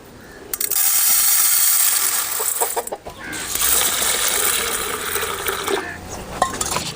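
A cup of lentils is rinsed in water for an aara keerai kootu, giving bursts of sloshing and splashing with faint clinks that keep going in uneven waves.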